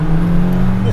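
A stock 1990s Mitsubishi Lancer Evolution V's turbocharged four-cylinder hums with a steady, close engine note for under a second.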